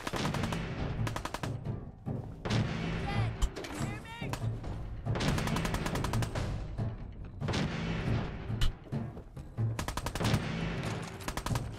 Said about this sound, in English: That's a pipe pistol.